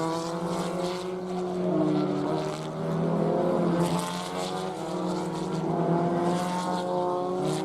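Formula Ford race cars, including a 1978 Crossley, brake hard into turn 12 at Indianapolis during a vintage race, engines droning steadily with rising and falling revs at moderate distance.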